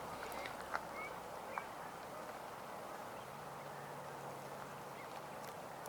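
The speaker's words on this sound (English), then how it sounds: "So those are ring-necked ducks." Ring-necked ducks call faintly at a distance on a wildlife refuge in November, a few scattered short calls over a steady outdoor hiss of wind and water.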